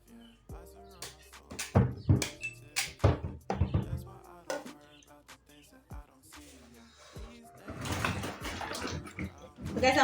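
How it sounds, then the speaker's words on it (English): Cassava being washed by hand in water, heard as splashing, sloshing and knocking of the pieces in a container, in uneven bursts that grow busier toward the end, with no talking. "I'm washing the cassava now"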